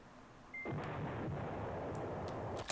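Artillery bombardment in the wargame Command Ops 2 gives a dull booming rumble that swells in and holds through the clip, with a short tone beforehand and faint clicks toward the end.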